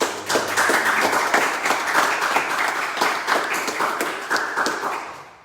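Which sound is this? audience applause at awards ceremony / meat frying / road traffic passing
audience applause at awards ceremony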